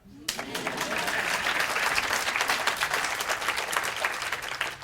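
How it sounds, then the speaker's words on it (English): A school-leadership audience breaks into loud, sustained applause that starts abruptly and holds steady, dense clapping filling the whole stretch. "That means you can clap a little louder."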